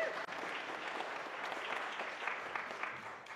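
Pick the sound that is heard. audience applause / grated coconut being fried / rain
audience applause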